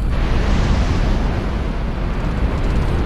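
A bomb blast from an aerial bombing run in the HighFleet game, a loud, sustained rumbling roar that fills the whole moment without a break.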